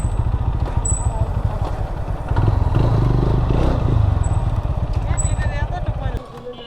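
A GPX Demon GR 165 RR motorcycle with dirt in its fuel tank runs rough while being ridden, its engine drone steady and uneven with rattly clatter, and someone talks over it before the engine note drops off at the end.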